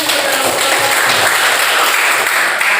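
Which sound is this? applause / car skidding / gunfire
applause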